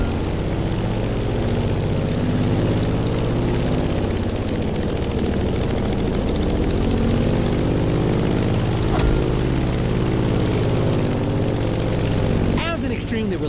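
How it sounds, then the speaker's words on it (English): A Grumman F8F Bearcat propeller fighter in The Crew Motorfest video game drones loudly and continuously with a steady engine hum and propeller buzz, while a voice talks over it. "In the cockpit of a stunning Grumman F8F Bearcat,"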